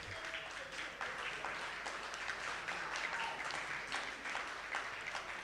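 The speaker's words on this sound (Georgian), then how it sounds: "აპლოდისმენტებით გავაცილოთ მებრძოლები" Faint, steady clapping from a crowd at a ceremonial MMA fight weigh-in, sending off the fighters, continuous and somewhat distant throughout.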